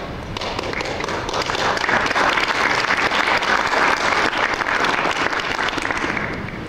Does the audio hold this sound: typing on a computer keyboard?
no